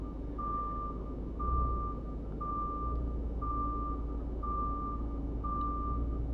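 A truck backs up a trailer in a driving video game, its reversing alarm sounding a steady run of about six evenly spaced high beeps over a low constant engine hum.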